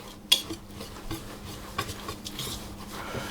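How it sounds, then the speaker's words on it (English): Flour, ginger, nutmeg, mixed spice and baking powder being mixed in a large bowl, soft scraping and rubbing with a few light clinks of a utensil against the bowl. "the ginger, nutmeg, mixed spice and baking powder all into a large bowl and mix them together."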